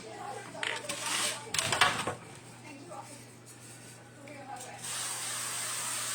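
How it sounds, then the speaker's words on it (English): A short hissing burst of cooking spray into a pan, followed by soft clatter and handling noises nearby. "Just a quick spray because I don't want them to stick."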